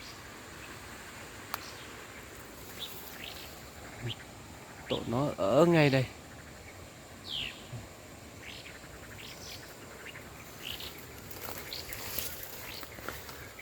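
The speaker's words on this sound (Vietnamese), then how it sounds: "Con chim mẹ nó đang kêu ở trên này này." A mother bird calls near a ground thrush nest outdoors, a short burst of chirps and a few scattered faint tweets over insect hum, with a person talking quietly.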